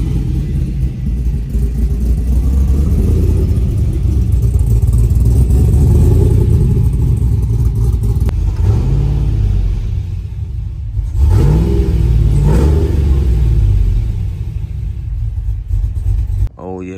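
A car's engine cold-starts and revs, a loud steady low rumble filling the whole stretch with rising and falling rev sweeps near the end, up close.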